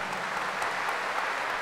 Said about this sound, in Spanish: Aplauso fuerte para el Señor.